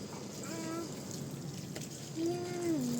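Water pours onto small plants in a steady, moderate splashing stream, while a voice talks over it.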